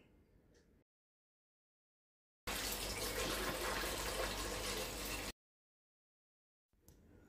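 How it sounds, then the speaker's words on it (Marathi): Water pours steadily into a pressure cooker from a tap for about three seconds, a loud continuous rushing splash set between quiet gaps, while cooking dalia and moong dal. "आता कुकर उघडून तळची प्लेट बुडेल एवढे कुकरमध्ये पाणी घाला"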